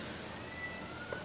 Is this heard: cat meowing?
yes